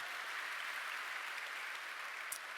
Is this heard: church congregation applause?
yes